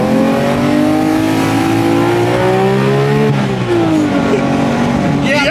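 A 2018 Porsche 911 GT3 Touring engine revs loud and close, its rising wail holding steady, dipping briefly at a shift, then climbing again.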